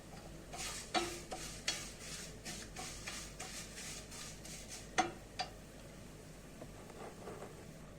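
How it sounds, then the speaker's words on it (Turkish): Vermicelli roasting in a pan for bulgur pilaf, a quiet steady sizzle with intermittent scraping stir strokes and a few sharper clicks of the utensil against the pan. "şehriyemi kavurmaya başladım"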